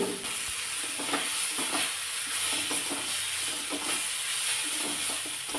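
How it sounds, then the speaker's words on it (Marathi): Chopped tomatoes sauté in a pan for a brinjal curry, giving a steady close hiss of frying with repeated scrapes and clacks of a spatula stirring throughout, no talking. "अगोदर टॉमॅटो मी सॉफ्ट होईपर्यंत व्यवस्थित परतून घेते"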